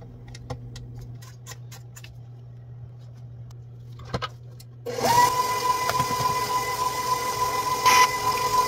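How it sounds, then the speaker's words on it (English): Electric mixer running at medium speed through cake batter for a red velvet cream cheese pound cake, starting abruptly after a few quiet seconds of light ticking and then whirring loudly and steadily up close. "The mixer is actually on a medium speed"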